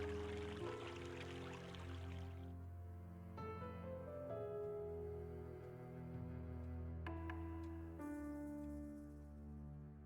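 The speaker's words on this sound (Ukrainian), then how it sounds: "Туди полиється вода." Water pours in the Evoland 2 video game, a soft trickle under steady sustained synth music tones, fairly faint and continuous with no talking.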